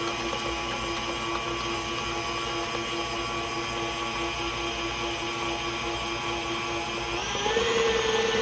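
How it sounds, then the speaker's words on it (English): An electric mixer hums continuously while beating cake batter with milk, eggs and baking soda, a steady motor drone that rises slightly in pitch near the end. "Mix that up really good"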